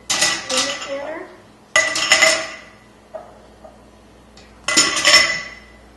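Glass canning jars for peaches go into a metal canner in three loud clattering clinks, separated by pauses, with a fainter knock between them.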